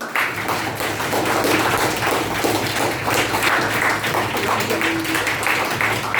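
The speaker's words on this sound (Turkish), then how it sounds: "Zeynep'i ve Arda'yı ve bütün yarışmacı arkadaşları alkışlıyoruz." Applause for contestants at an end-of-term school quiz competition for eighth-grade students, a steady dense patter of clapping filling the room and continuing without a break.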